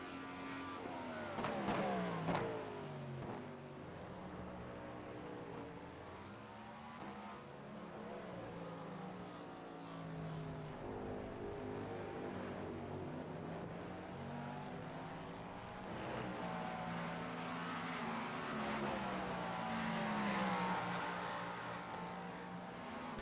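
Race cars in an IMSA racing video game drone steadily throughout, engine tones rising and falling as gears shift, with a nearer car's pitch sweeping past early on and a sustained roar building again toward the end.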